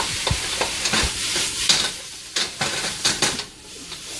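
Garlic is stir-fried in an oiled pan with a constant hissing sizzle, close and loud. A utensil scrapes and clacks against the pan in irregular strokes throughout.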